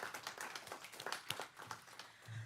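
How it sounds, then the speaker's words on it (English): Applause at a city council meeting, a brief patter of clapping from a small crowd, quiet and somewhat distant, with irregular individual claps standing out. "Let's give him a big round of applause."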